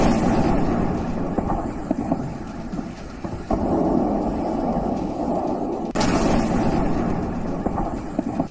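Booming artillery and missile fire from the war in Ukraine rolls on continuously, a dense low rumble with sharper thuds standing out near the middle and again later, loud and sustained with no talk.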